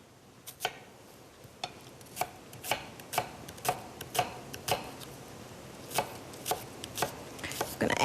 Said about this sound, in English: I've got 1 onion that I'm gonna chop up.